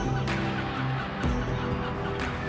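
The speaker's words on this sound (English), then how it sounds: "Look at my seagulls." Seagulls calling over a farm field, heard in a TV show about tractor work in the Cotswolds: a dense, continuous flock clamour with repeated squawks and honk-like cries, fairly loud throughout with no pauses.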